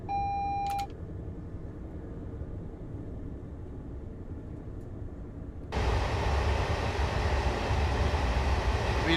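In Train Simulator, a train runs on the East Coast Main Line toward Doncaster. A short electronic beep opens over a steady low rumble of wheels and motors, which swells louder and fuller partway through.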